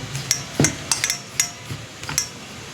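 Dough being kneaded by hand in a bowl, seasoned with salt and a little sugar: a series of soft, irregular squelching knocks and taps against the bowl, close and fairly quiet, with no talking.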